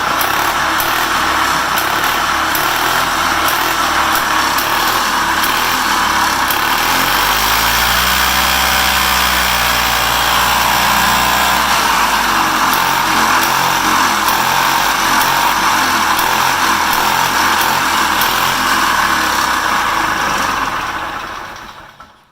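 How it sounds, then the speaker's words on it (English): A custom EZGO golf cart's small engine runs steadily and loudly up close for about twenty seconds, its pitch dipping and rising once as the pedal is eased, then cutting off abruptly at the end. "let's fire it up so you guys can hear this thing run"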